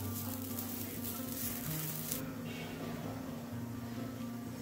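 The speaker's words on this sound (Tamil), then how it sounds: "அடுத்ததாக தேங்காவை வறுத்துக்கோங்க" Grated coconut roasts in a pan with a soft, even sizzle over a low steady hum, close by and without speech.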